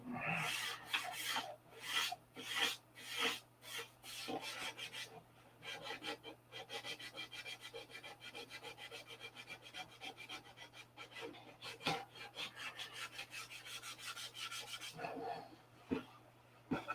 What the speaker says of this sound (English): So it's another day of sanding.